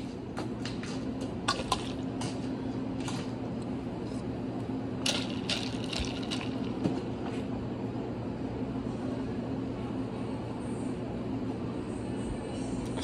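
Sour mix and a splash of Coke poured into a Longer Island Iced Tea party drink made with Everclear and triple sec: soft dripping, trickling liquid, quiet and close, with no talking.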